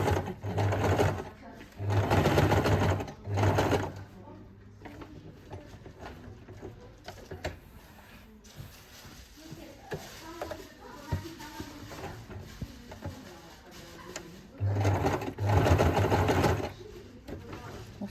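A sewing machine stitches a quilt in zigzag, its rapid clattering runs coming in several loud bursts separated by quieter pauses where a voice speaks and the fabric is handled.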